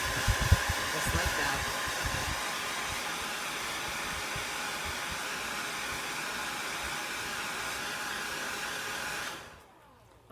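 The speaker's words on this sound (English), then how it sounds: "I'm just going to hit this with the hair dryer off to the side." A hair dryer blows steadily at close range, drying a glittery red, white and blue chalk craft project, then cuts off abruptly after about nine seconds.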